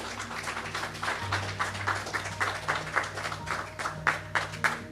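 A congregation at a Wednesday evening Bible study service claps, a scattered but steady patter of many hands with a few louder individual claps, with no speech over it.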